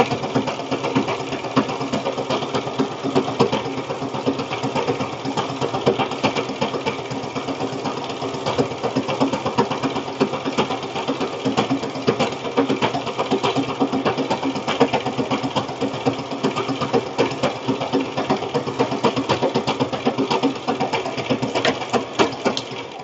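A sewing machine runs a straight stitch for more than twenty seconds, its steady, fast mechanical whir and needle chatter close and continuous, with no voices.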